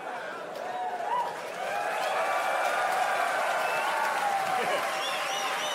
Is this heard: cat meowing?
no